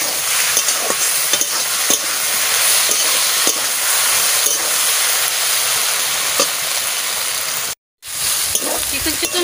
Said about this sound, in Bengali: আমি তো মশলা দিয়েই ভাজা করছি